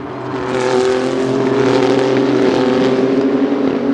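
Renault Sport Trophy race cars at speed on a circuit, a loud sustained engine roar with shifting pitch as the field passes, close and continuous.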